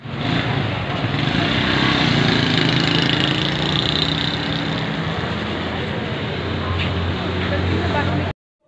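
A bus engine drones steadily while riding, a constant low rumble with road noise that runs unbroken for about eight seconds before cutting off abruptly.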